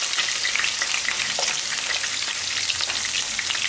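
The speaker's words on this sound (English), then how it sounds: "So it's into the pan with the onion" Onion frying in a hot pan for chicken marsala, a loud, dense, continuous sizzle close up with no talking.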